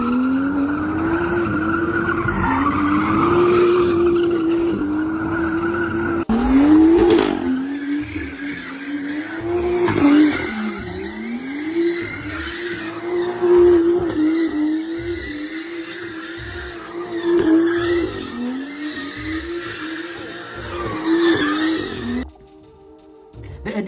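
A BMW M2 with a seven-speed dual-clutch gearbox slides sideways, tires squealing in long wavering bursts over a revving engine that rises and falls repeatedly, loud and close.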